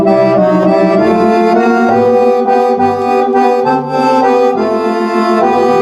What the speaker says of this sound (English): And then when you hit the expression pedal and add all the organ stuff,